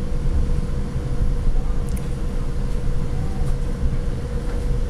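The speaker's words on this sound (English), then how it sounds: "Oh, another train." A train passes at Burwood, a steady heavy rumble of wheels and carriages that holds constant throughout, with faint high squeals flickering briefly over the loud, continuous roar.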